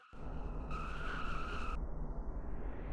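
A NASCAR Cup stock car on a qualifying lap of the Illinois oval, its engine roaring close and loud with a high whine and tire scrub through the middle before easing off.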